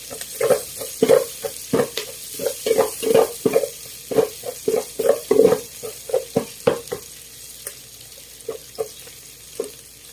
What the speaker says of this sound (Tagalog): Pag-brown natin konti yung bawang natin.